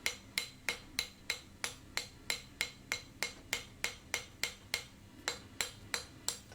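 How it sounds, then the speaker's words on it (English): Ball peen hammer riveting metal on an anvil: about eighteen sharp, ringing blows in an even, steady rhythm, close and clear with no talk. "I'm just going to start with the ball peen, rivet them out a bit."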